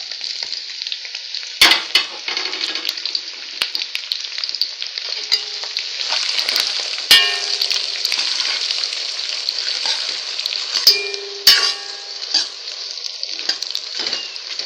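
Sliced onion added to a hot pan of frying fish sizzles loudly and steadily, with a few sharp clatters of stirring and utensil knocks against the pan throughout.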